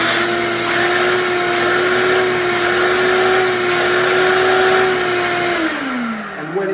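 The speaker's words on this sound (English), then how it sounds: "So when I turn on the vacuum, there's going to be suction here." A vacuum used for air duct cleaning in Houston runs loud and close with a steady, high whining roar, then its pitch sags and winds down near the end.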